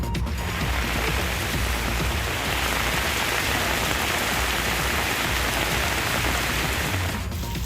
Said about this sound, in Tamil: வேலூர் மாவட்டத்தில் இடி மின்னலுடன் கனமழை பெய்தது